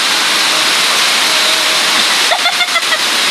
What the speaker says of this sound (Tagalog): Kasi sobrang lakas po talaga ng ulan.